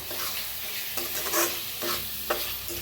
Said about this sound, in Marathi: आता ह्याच्यात टाकूया आपण टमाटो, थोडीशी कोथिंबीर आणि याला मिक्स करून छान असं भाजून घेऊया।